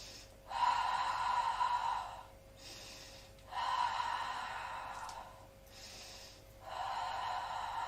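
Slow, drawn-out exhalations during a Pilates hypopressive abdominal exercise, three long breathy blows separated by short pauses, close and fairly loud with no talking.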